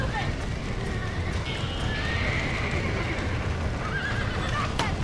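A horse whinnies over steady clopping hooves in the video game Red Dead Redemption, with a dense background of game noise and some voices mixed in.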